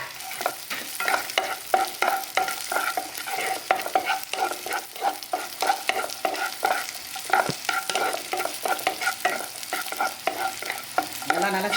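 Raisins roasting in a pan for aval laddu, heard as a soft, continuous sizzle under repeated rhythmic scraping and stirring strokes of a spoon, close and alone with no talk.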